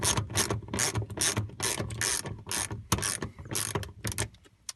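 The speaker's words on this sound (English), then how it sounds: "So I'm going to go ahead and tighten this." A ratchet clicks in quick bursts of strokes, tightening a bolt on a racing harness in an EVO 9 MR. The stroke sounds are crisp and close, and it is heard alone.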